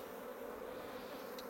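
Honey bees hum in an open beehive, a steady, continuous low drone with a soft, faint texture and no talk over it.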